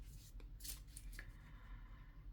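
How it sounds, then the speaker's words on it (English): Tarot cards being shuffled by hand, a few quick riffling and snapping bursts close by, brief and crisp against a quiet room hum. "Okay, one more shuffle."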